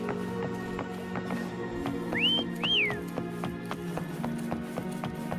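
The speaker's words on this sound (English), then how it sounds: "Try whistling." Two rising-and-falling whistle notes in a Wuthering Waves game scene call a mount, heard over steady clip-clop hooves and a low musical drone.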